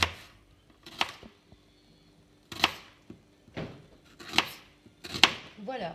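A knife chops onions for tchakchouka in quick clustered bursts of close, crisp cuts against a board, with short quiet gaps between each run of chops.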